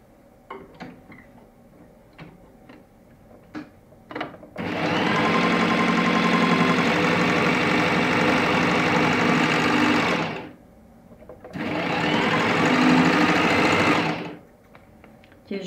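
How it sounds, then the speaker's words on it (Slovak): A Brother 3034D overlock serger set up for four-thread stitching runs over knit fabric in two sustained bursts of steady rapid whirring, about six seconds and then three, with soft ticking handling noises before and between. "Ja mám nastavený štvornitný overlock."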